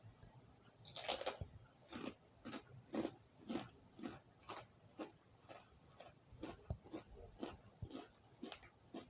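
Crunchy chewing of Doritos Sweet BBQ Tang tortilla chips, close to the mic, a steady run of about a dozen distinct crisp bites and crunches spaced roughly half a second apart, with no talking.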